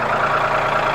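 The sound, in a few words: Mahindra tractor engine idling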